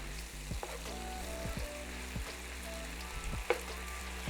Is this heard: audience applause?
no